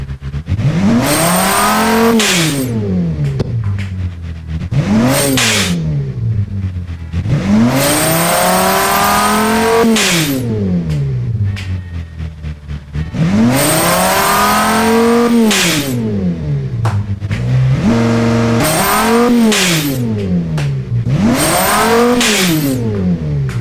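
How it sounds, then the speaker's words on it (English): Car engine in the Automation video game, revving high then popping and banging as the throttle is released, in repeated rising and falling sweeps, loud and close with no talk. "As you can hear the engine popping and banging when you release the throttle."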